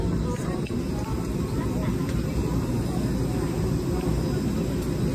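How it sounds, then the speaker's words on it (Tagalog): Steady broadband engine roar fills an airplane cabin, a constant low rumble and hiss with no breaks, close and enveloping. "sa loob ng eroplano."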